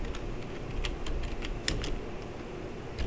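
Quick, light keystrokes on a computer keyboard, a loose patter of clicks close up over a steady low background hum, with no talking.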